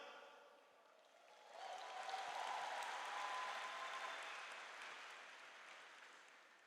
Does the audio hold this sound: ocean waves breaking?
no